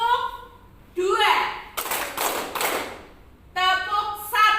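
A seated group claps in short, crisp bursts on cue, the sharp hand claps separated by gaps in which an adult voice speaks and children respond.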